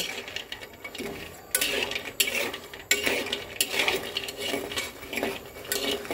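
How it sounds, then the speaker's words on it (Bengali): Lentil dumplings (bori) being lightly fried in mustard oil in a wok, with steady stirring and scraping of a metal spatula, occasional louder clunks over a low frying hiss. "তো চলো বড়িগুলো একটু হালকা ভেজে নেই।"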